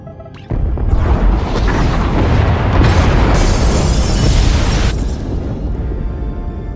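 A loud, sustained explosion tears through the pod bays in Star Wars: The Old Republic, a sudden blast followed by several seconds of roaring, crackling rumble and debris with no speech.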